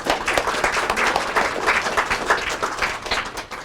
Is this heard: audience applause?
yes